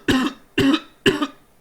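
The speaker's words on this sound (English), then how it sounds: "I'm coughing a lot now that my throat's getting dry" Three harsh, evenly spaced coughs sound close to the microphone from a person with a dry throat, each a short loud burst followed by a brief pause, with the start of a fourth at the end.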